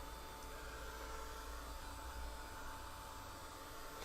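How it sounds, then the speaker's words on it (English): A hot hair dryer blows steadily in a studio while watercolor paint is dried, a constant faint airy whoosh with no talking. "dry it really quick with a hot hair dryer"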